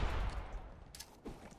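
Bursts of gunfire from a Pit capture-the-flag match in a video game, a few sharp shots cracking over a steady background rumble, the loudest near the end.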